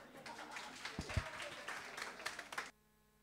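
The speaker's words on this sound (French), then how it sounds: "Vous avez le droit d'applaudir." Audience applause at a live singing showcase as a performer is welcomed, a dense crowd of claps with some voices mixed in, fading abruptly near the end.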